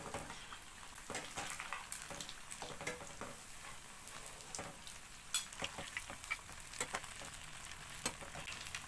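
Sabudana vadas fry in oil while being gently turned, a faint, steady bubbling sizzle close by with scattered crisp pops and light clicks from the spatula, and no speech.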